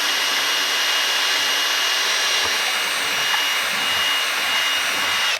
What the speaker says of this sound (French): Nous allons percer cette plaque en double pot à 11 mm.